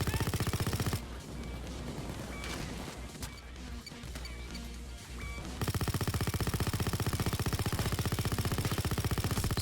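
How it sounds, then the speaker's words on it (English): Rapid automatic gunfire in the heist video game Payday 2, loud dense bursts that open the stretch, give way to quieter scattered shots and clatter, then return as a long sustained volley. "Just gonna shoot into this hallway here."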